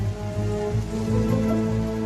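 Steady rain patters continuously on a surface, a dense even hiss with no voices.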